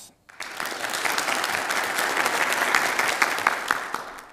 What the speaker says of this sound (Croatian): Molim se jedan aplauz